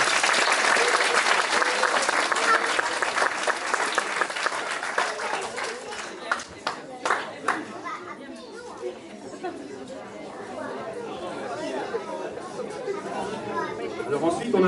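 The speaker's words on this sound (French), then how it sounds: "je crois qu'on peut aussi applaudir Eva" Audience clapping for a young musician at the inauguration of a school orchestra, a loud burst that thins into scattered claps amid lively chatter and children's voices.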